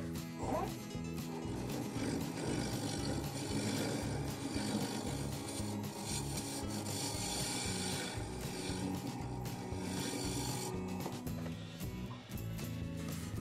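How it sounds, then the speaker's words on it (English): A wood lathe spins a thick, heavy maple platter blank at 1000 RPM while a gouge cuts steadily, giving a continuous close scraping and rasping hum with no pauses. "I've turned this up to 1000 RPM now. I'll see if I can clean that up a little better at that speed."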